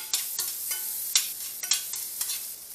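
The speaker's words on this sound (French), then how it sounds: "Une fois que le beurre a fini chaud, je vais mettre un peu d'oignon. Saisis un peu d'oignon là-dedans." Onion and garlic sautéing in hot butter for a Haitian Creole conch (lambi) dish, with a steady soft sizzle broken by several sharp stirring scrapes and clicks close by, no talking.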